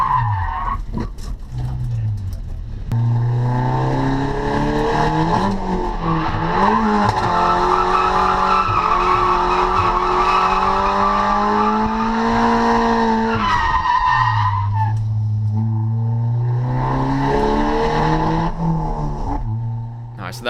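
A car drifts through a track-day lap, tires screeching in long sustained squeals over a loud, revving engine, with the pitch rising and falling as the driver works the handbrake and countersteers, close and continuous throughout.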